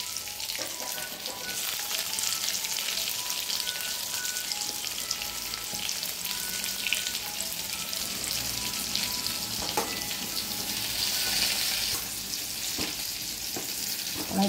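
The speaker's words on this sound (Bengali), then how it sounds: "এবার আমি পেঁয়াজগুলো ভেজে নেব।" Onions fry in a pan with a constant crackling sizzle up close, broken by a few scraping stirs, with no talking.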